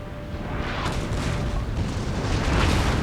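Continuous dense rumbling battle noise from Napoleon Total War at the Battle of Austerlitz, with artillery booms blending into a steady roar of cannon fire and distant combat that stays loud and busy throughout.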